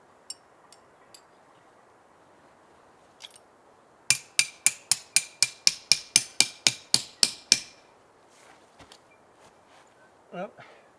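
A hammer pounds tent pegs into frozen ground while pitching an inflatable hot tent in freezing weather. A few scattered knocks lead into a fast, even run of about fourteen loud, close strikes, then a few quieter taps.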